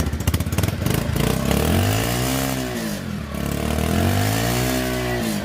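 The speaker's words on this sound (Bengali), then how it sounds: "এবার চলুন বাইকটার সাউন্ড শুনে আসি আমরা" A motorcycle engine runs close by, starting with rapid idle pulses and then revving up and down in smooth swells of rising and falling pitch, loud and steady, with no talking.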